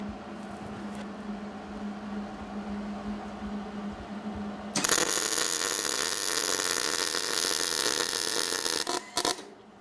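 A MIG welder runs on heavy steel with too much heat, burning a hole through; a steady hum gives way to a loud, dense crackling hiss that holds close and continuous before cutting out in brief sputters.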